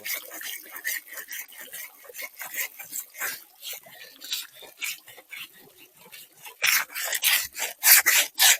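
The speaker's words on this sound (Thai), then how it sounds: "เผาแล้วเฮาก็สิเอาน้ำล้างแล้วขูดนางกอบมันเนาะ" Repeated raspy scraping of singed skin on a hunted animal after it has been washed, steady rough strokes close by that grow louder toward the end, with faint talk in the background.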